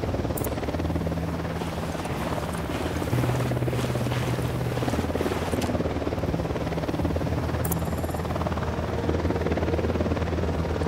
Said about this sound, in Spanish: Este helicóptero tiene pinta de que va a venir para acá